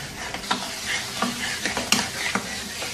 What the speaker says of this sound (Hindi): और अब इसको अच्छी तरह से मिक्स करना है कि ये जो टमाटर हैं ये इसमें घुल जाएं।